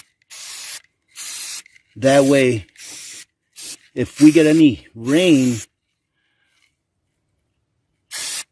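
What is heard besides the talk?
spraying Rust-Oleum primer from a spray can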